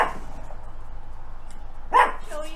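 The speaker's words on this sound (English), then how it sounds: "you're not gonna bark all day" A dog barks once, a short loud burst near the end, indoors during a home coffee-bar build, after a stretch of low background hum.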